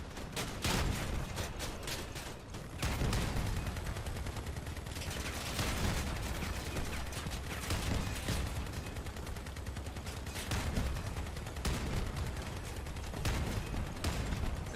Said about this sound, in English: Just rapid fire right now.